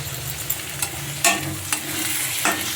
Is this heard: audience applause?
no